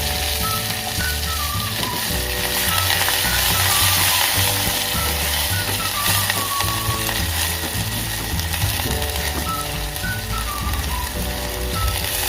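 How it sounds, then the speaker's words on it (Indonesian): Blended beef simmering in a pot for a homemade baby-food soup, giving a steady, close sizzling and bubbling with faint clinks, continuous and alone without talk. "Kita masukkan daging yang sudah kita blender ya."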